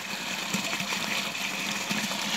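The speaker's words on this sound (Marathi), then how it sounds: "आम्ही खोंड्याला पाणी भरतोय" A pump motor sends water into a cattle trough in a continuous, steady gush at low pressure, close and fairly loud, with no break throughout.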